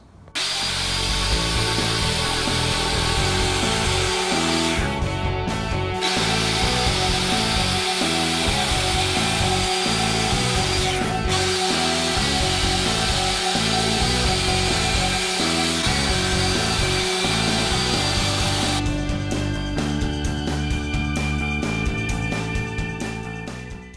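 A router fitted with a Diablo straight bit cuts dados into wood, a loud, continuous high-pitched whine with roughness that shifts as the cut progresses, running steadily throughout.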